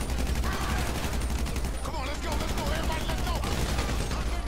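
Rapid, dense gunfire in GTA V Online in Grove Street, a continuous stream of shots with voices talking underneath throughout.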